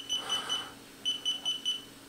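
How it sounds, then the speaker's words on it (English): A DJI Spark remote controller beeps during a firmware update: three quick high beeps, a short pause, then four more in an even rhythm, close and fairly quiet. "we're hearing some beeping and apparently it's still updating"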